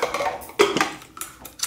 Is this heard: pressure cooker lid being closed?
yes